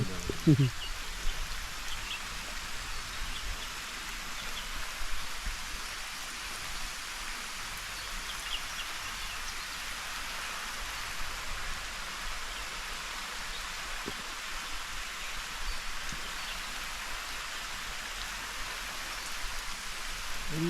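Steady rain-like hiss of a water sprinkler spraying leafy greens and vegetables, pattering on leaves, continuous and even throughout with no pauses.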